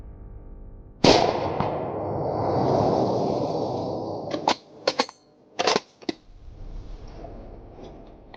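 Warning gunshots are fired at a stalking creature: one loud, sharp crack opens into a long rumbling tail, and a scatter of short, sharp snaps and clicks follows.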